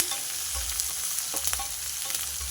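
Chopped onions and green chillies sizzle in a pan of hot tempering oil, a bright continuous frying hiss with soft stirring scrapes, close and unaccompanied by any voice.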